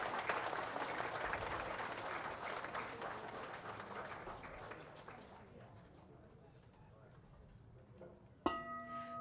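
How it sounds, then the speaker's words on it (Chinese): An audience gives loud, sustained applause at a Buddhist Aizen Myoo fire puja ceremony at a temple. The clapping gradually fades away, and a bright ringing chime-like tone sounds near the end. "让我们以热烈的掌声感谢师尊的赐福"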